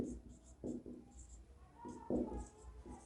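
Marker or chalk writing on a board during a Class 10 maths lesson on arithmetic progressions, with short scratchy strokes in bursts under a teacher's steady speech.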